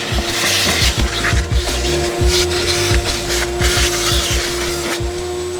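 A vacuum cleaner works over the carpet inside a car, its steady motor drone broken by repeated low thumps and scrapes as the nozzle is pushed and pulled across the floor, close and loud.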